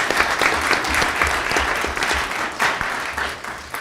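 A school district governing board meeting audience applauds steadily and fairly loudly, a dense wash of many hands clapping with no talk over it, for several seconds.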